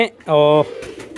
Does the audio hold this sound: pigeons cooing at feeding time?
yes